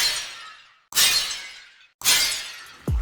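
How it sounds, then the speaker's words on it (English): Three glass-breaking shatters from the Deadlock soul orb denial effect, each bright burst sliding downward in pitch as it decays, the last cut off by a deep rumbling tonal sweep. "glass breaking being pitched down over time,"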